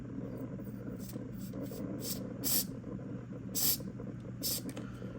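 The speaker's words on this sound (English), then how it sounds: "Give it a spray." WD-40 electrical cleaner sprayed into a PS5 controller in short bursts, several quick aerosol hisses over a steady low hum, close up and with no talking.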